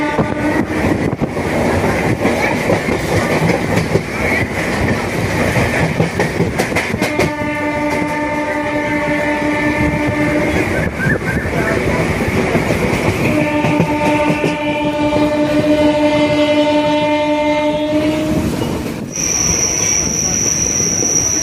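A passenger train running on an Indian rail journey gives long, steady horn blasts in two extended bursts over continuous wheel rumble and clatter on the rails, loud and close, with a faint squeal near the end.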